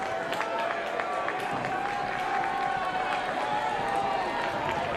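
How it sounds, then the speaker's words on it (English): High school football crowd at a Loveland vs. Lebanon game keeps up a constant, fairly loud murmur of cheering and scattered clapping on third and long, with a play-by-play voice running over it. "Crowd trying to make some noise"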